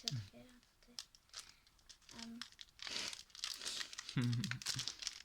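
Crinkly plastic wrapper of a Magic card pack being torn and crumpled in short bursts, close by, with people talking between the rips.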